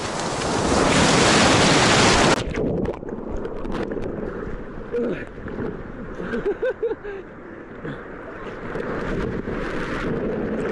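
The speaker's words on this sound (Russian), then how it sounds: "Вот волны сегодня сильные" A heavy sea wave crashes loudly for a couple of seconds at Olenevka, Crimea, then gives way to churning water and gusty wind buffeting close to the microphone.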